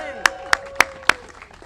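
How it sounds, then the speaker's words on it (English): At a press conference on attacks on minority-serving institutions, four sharp, evenly spaced hand claps ring out close by, with a faint tone lingering underneath and no talk between them. "Round of applause for Senator Hirono."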